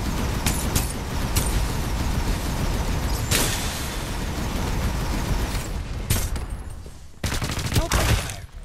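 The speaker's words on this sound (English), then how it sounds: "Precision bombing!" Precision bombing strike in the video game Farlight 84: a dense barrage of loud explosions and rattling gunfire, with bursts of heavy blasts continuing throughout and a brief lull near the end.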